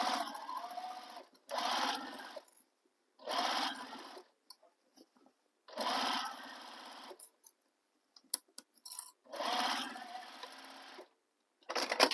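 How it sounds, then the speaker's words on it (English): Sewing machine stitching across the bottom seam of a handbag lining, running in several steady bursts of a few seconds each with short pauses between them, close and fairly quiet, with no talking. "So right here, sew across the bottom."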